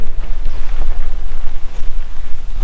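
Strong wind gusting across a campsite around a new Quechua tent, loud buffeting rumble hitting the microphone in uneven pulses, with no one talking.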